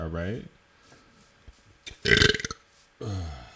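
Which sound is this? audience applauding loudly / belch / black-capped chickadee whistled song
belch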